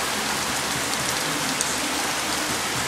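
Steady rain falls in a dense, even hiss with no pauses, close and fairly loud throughout.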